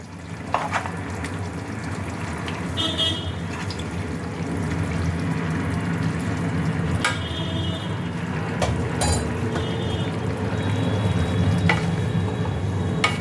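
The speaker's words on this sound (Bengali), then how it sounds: "ঘি দিয়ে এটাকে আরেকবার ভালো করে মিশিয়ে নিচ্ছি" Cauliflower curry with gravy being stirred with a spoonful of ghee in a pan, a continuous bubbling sizzle with intermittent sharp scraping and clinking of the spoon against the pan, close and loud, no talk.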